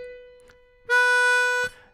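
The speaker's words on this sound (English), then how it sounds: "Three draw sounds like this." A C harmonica sounds a single three-draw note, one clean sustained tone lasting under a second, close and clear against near silence with no voices.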